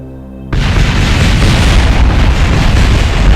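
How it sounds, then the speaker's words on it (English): A rocket explodes in Kerbal Space Program: after a brief quiet lead-in, a sudden loud boom swells into a sustained, dense roaring rumble that fills the rest of the moment without letting up. "There goes that gorgeous explosion"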